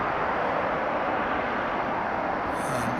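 Cessna 208B Super Cargo Master turboprop at Dallas/Fort Worth Airport, a steady broad engine roar at moderate distance that holds level throughout.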